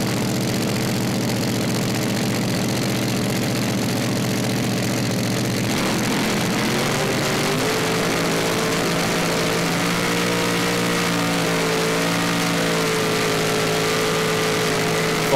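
Drag racing car engine at an ANDRA meet in Adelaide: a loud sustained roar that climbs and shifts in pitch partway through as the car launches, harsh and dense throughout, with no talk.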